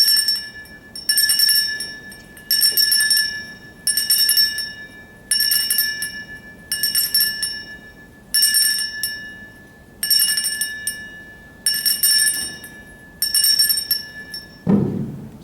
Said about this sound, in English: We ring the bell, and I'll see if I can do it 10 times.